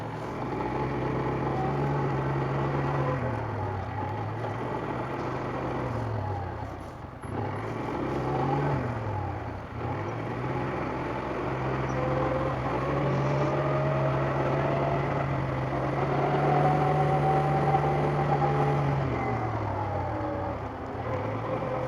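A Loncin XWolf 300 ATV engine runs steadily nearby, a low droning hum whose pitch rises and falls slightly with throttle changes over about twenty seconds, with no talk.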